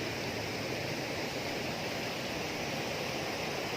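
The Dwi Warna waterfall at Sibolangit roars in a steady, close, broadband rush of falling water with no voices over it.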